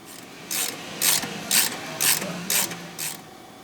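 A hand ratchet works a control arm bolt loose on a Mercedes S550 rear suspension, giving six evenly spaced bursts of crisp clicking. The clicks are close and fairly quiet, with no voices.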